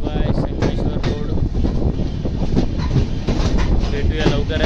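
A Konkan Railway train pulls away from Sangameshwar Road station, its wheels clattering steadily and loudly over the rails with a continuous rumble, while voices talk nearby.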